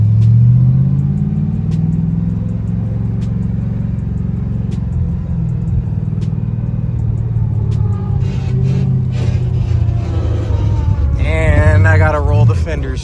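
A 3V-swapped Ford Mustang New Edge engine idles high with a steady low rumble and a faint uneven hunt. A voice talks over it, and a brief whine joins near the end.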